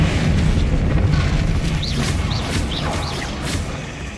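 A Bombarda blasting spell explodes in Hogwarts Legacy, a loud dense boom with rumbling debris and crackling magic whooshes filling the whole stretch.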